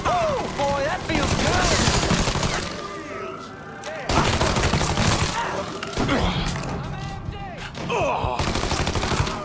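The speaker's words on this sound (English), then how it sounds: "Shoot the motherfucker!" Gunfire in the video game Mafia III, with repeated loud shots and bursts running through the whole stretch, mixed with shouting voices and in-game commotion.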